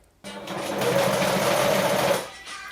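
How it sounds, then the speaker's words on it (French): A sewing machine stitching a garment runs in one steady whirring burst of about two seconds, close and loud, starting abruptly after a short silence and winding down at the end. "Et je l'ai cousu à la machine."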